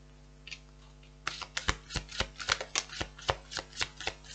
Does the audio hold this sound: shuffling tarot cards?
yes